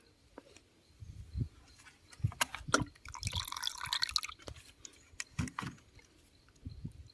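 Latex dripping from a healthy ten-year-old rubber tree just after tapping, falling in separate drops; soft, close, irregular drips with some quiet background sound and a brief hiss in the middle.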